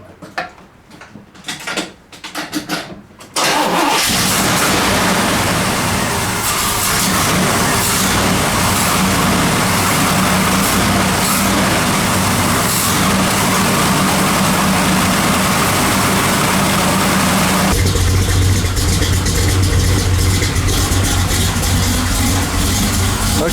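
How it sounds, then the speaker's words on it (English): A car engine cranks, catches and settles into a steady, loud idle after a fuel pressure regulator repair, the even drone running on for about twenty seconds with a slight shift in tone near the end. "let's start the car up and see if that fuel pressure regulator made any difference to the erratic behavior of my fuel pressure"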